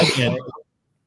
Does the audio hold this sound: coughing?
yes